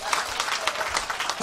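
An outdoor crowd at a beach performance claps in a quick, dense burst of applause with voices mixed in.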